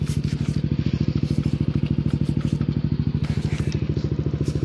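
A Yamaha NMAX V2.1 scooter engine idles close by with a steady, rapid, even thumping putter that continues unbroken throughout.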